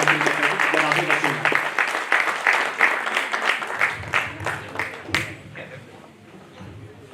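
Audience at an Urdu poetry gathering (mehfil) clapping in bursts beneath a voice; the clapping is moderately loud at first, then thins into scattered claps while he keeps talking.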